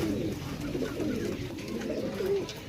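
Pigeons cooing at a pigeon sale, soft low coos repeating steadily and fairly close against a constant murmur of background noise, with no talk over them.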